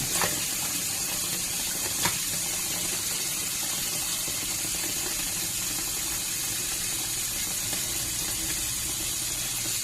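Vegetables are washed in clean water after a salt-water soak. A steady, soft wash of running and sloshing water goes on throughout, with a faint knock near the start and no talk.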